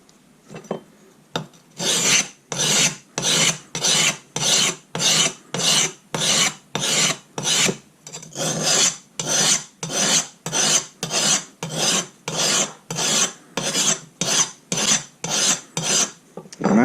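A silicon carbide sharpening stone rubbed back and forth on a coarse file, giving a steady series of about twenty-five loud, harsh rasping strokes in an even rhythm, close up with no talking.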